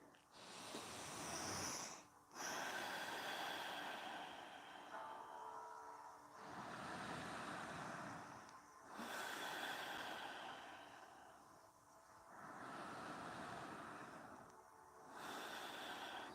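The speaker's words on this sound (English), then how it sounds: "breathing through our nose" Slow yoga breathing through the nose, long drawn inhales and exhales rising and falling in several waves, close and fairly soft, with a faint low rumble beneath.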